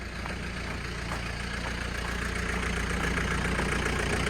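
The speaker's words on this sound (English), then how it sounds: "I'm gonna hop up on the tractor and I'm gonna pull forward with it." A John Deere 448 backhoe tractor engine runs steadily nearby while pulling forward, with a low, chugging rumble that gradually grows a little louder, with no voices.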